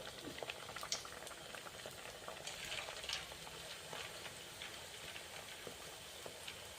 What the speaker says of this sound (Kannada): ಹೈ ಫ್ಲೇಮ್ನಾಗ ಕಾಸ್ಬಿಟ್ಟು ಲೋ ಫ್ಲೇಮ್ನಾಗ ಇಟ್ಕೊಂಡು ಫ್ರೈ ಮಾಡ್ಕೊರಿ